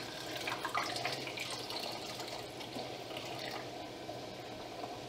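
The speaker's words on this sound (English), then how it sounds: "So now I'll put the fixer back. It's in this case a brown liquid." Brown film fixer for color C-41 development at home (CineStill TCS-1000 kit) is poured back into its bottle, a steady continuous liquid gurgle and splash held close and fairly loud throughout.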